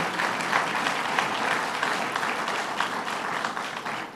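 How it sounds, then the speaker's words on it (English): An audience at a public event announcing a highway interchange project gives a round of applause: continuous, dense clapping from many hands, fairly close and steady, with no talk over it. "Let's give him a round of applause."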